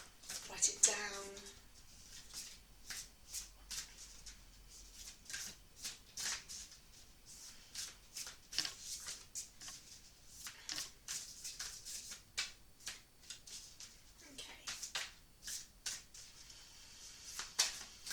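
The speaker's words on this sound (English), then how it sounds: "I'm going to put those back in and continue to shuffle" Oracle cards are shuffled by hand in a long run of quick soft riffling flicks, close and continuous with small pauses, while a person talks quietly throughout.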